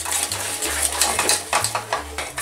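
A spoon stirs heated milk into mashed potatoes in a pot off the heat, with repeated scraping and clinking against the pot in an uneven rhythm, close and moderately loud with no talk.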